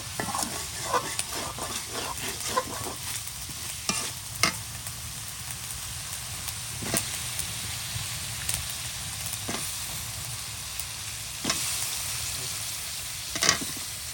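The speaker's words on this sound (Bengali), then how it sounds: "আমাদের চিংড়ি মাছ কষানি হয়ে গেছে" Shrimp being stir-fried and braised in a pan for a Bengali curry, a steady close sizzle with repeated sharp scrapes and clinks of a spatula stirring through it; no one speaks.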